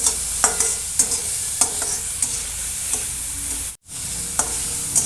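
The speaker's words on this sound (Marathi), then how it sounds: "कांदा असा परतून घेतो मी" Onion sizzles steadily in hot oil while a spoon scrapes and stirs the pan in short, regular strokes, close up, while cooking dried prawn chutney.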